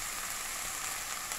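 Onion sautéing in hot oil in a pot for a chicken, potato and lentil stew, giving a steady, even sizzling hiss throughout with no voices.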